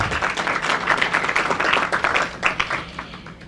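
Applause from the audience at the opening of a Senate forum on emissions trading, welcoming a senator: scattered, moderately loud clapping from a room of people, uneven and patchy with individual claps standing out over the short stretch.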